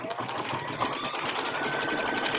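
A sewing machine stitches in a steady, close, continuous run after a tangled bobbin has been cleared, with no talk over it.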